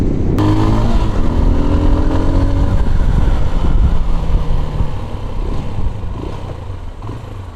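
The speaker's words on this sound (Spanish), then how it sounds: "Es grande la moto, va rápido." A large ride-hail motorcycle carrying a passenger roars up close, its loud engine droning and shifting in pitch as it speeds along, then easing slightly toward the end.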